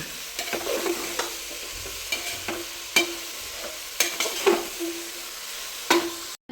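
Potato, carrot, onion, ginger and green chili sautéing in a pan while being stirred, with a steady soft sizzle broken by repeated scraping strokes of a spoon against the pan at an irregular rhythm, close and moderately loud.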